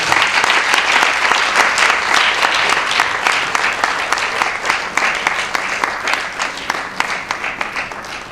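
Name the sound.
audience applause welcoming the chairperson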